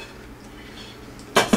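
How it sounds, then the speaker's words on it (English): A metal pot is set down on a stove burner on high heat, two quick close clanks at the very end after a stretch of faint room hum. "put the pot on,"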